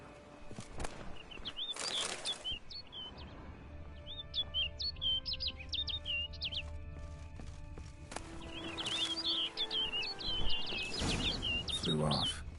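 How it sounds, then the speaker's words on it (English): Bird chirping in The Witcher 3: Blood and Wine, short bright tweet bursts in two clusters over a steady ambient game bed with faint hoof and footstep sounds. "Looks like the bird's leading me somewhere."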